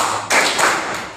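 A group claps along during an ice-breaker activity: two or three sharp, close claps in quick succession.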